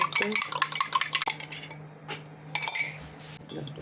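An egg is beaten in a bowl with a utensil while making yeast dough for pies, giving rapid, close clinking and scraping strokes in bursts, pausing briefly and then resuming, with no one speaking.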